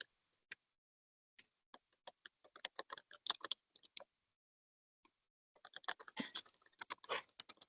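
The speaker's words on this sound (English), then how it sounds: "I can hear somebody typing away furiously there." Rapid clicking of computer keys, quiet and slightly distant, in uneven bursts with short pauses, ending in a quick flurry of typing.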